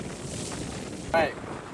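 Steady wind blowing across a sailboat at about 14 knots, with rushing noise and a brief whistling gust near the end. A voice speaks briefly.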